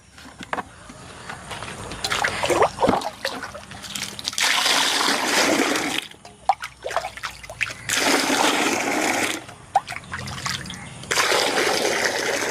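Water is poured from a vessel into a container in three or four long splashing bursts, with brief pauses and clinks between each pour.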